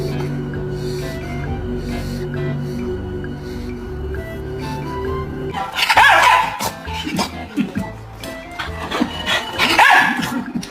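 A pet dog yips and barks in short, sharp bursts, loudest in the second half, alongside softer whimpering and movement sounds close by.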